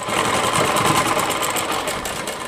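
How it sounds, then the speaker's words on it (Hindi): A sewing machine stitches the lining of a heavy-work Rajputi lehenga, running slowly in a continuous, close, rattling whir without pause. "इस तरीके से हमें धीरे धीरे मशीन को चलाते हुए हमें सिलाई को लगाना है"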